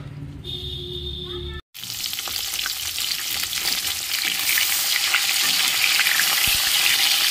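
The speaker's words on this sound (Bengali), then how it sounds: "মাছের ঝোল করবো বলে মাছটা ভেজে নিচ্ছি" Fish frying in a pan for a fish curry in a home kitchen, a loud continuous sizzle with crackling spatter that swells after a brief quiet moment near the start.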